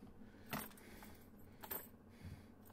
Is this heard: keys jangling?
yes